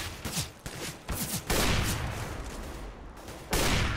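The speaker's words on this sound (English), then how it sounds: "I just heard a bunch of gunshots and got hit a bunch" Rapid bursts of automatic gunfire in the video game CS:GO, loud sharp cracking volleys in quick succession with brief gaps between strings of shots.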